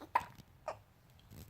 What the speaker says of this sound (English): You have hiccups.